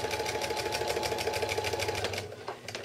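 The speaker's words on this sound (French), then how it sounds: "Et je commence à coudre." A sewing machine stitches binding onto a quilt in a steady, fast mechanical rhythm, close and clear, then slows and stutters to a stop near the end.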